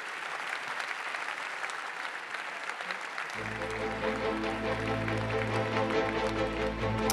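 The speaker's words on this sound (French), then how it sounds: "Merci Jordi, on peut l'applaudir." Audience at a sports awards ceremony applauding, steady clapping that swells as music enters midway and continues beneath it.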